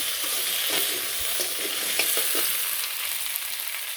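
Cubed potatoes and taro frying in a pan in a village kitchen, a steady close sizzle with scattered crackles and a few stirring scrapes, no talk.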